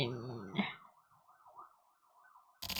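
A police car siren sound effect from the video game The Silver Case, a single wavering electronic wail heard faintly and alone after a brief burst of noise, cut off by another loud burst.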